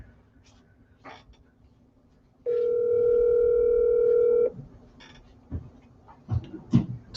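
A steady telephone ringing tone sounds on an outgoing call to an apartment owner, one long unbroken burst of about two seconds, with quiet background noise and faint breathing before and after.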